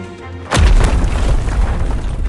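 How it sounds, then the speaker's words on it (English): An outer wall collapses with a deep, earth-shaking crash in a mobile romance game: a sudden heavy boom that then rumbles on loudly for nearly two seconds. "a section of the outer wall sagged slightly before collapsing with an earth-shaking crash"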